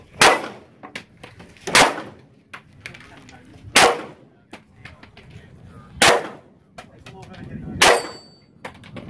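Gunfire on an outdoor 3-gun match stage: six sharp, loud reports spaced about two seconds apart, with faint coaching voices and metallic clangs between them.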